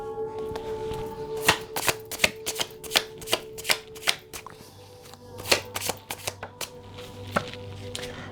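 A deck of tarot cards is shuffled and cards are drawn, giving close, sharp riffling slaps and snaps in an irregular series of distinct bursts over a faint background hum, with no talking.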